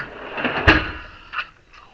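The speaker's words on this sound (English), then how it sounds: "Close all the drawers." A drawer slides and shuts with one firm knock in a garage workspace during a car repair, followed by a fainter rattle a moment later.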